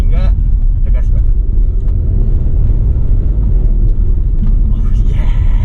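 A Wuling Almaz with a turbo and piggyback tuning drives at around 1500 RPM, giving a steady, heavy low engine rumble inside the cabin with muffled voices underneath.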